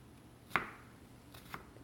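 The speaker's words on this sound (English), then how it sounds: "And then you go really thin slices again" A knife thinly slicing vegetables on a board during prep for beef ragu, with two distinct close chops about a second apart over a quiet background.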